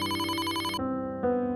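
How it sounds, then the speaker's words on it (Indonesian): An electronic phone ringtone in a cartoon plays a short run of clear, bright synthetic tones that step in pitch, signalling an incoming call. "Diana telepon"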